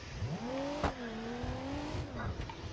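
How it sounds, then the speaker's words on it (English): Turbocharged V6 off-road car engine in a video game, revving with pitch rising and falling through gear changes, loud and close, with a short thump midway and a brief pause near the end. "this sounds like a V6, and I believe it is turboed."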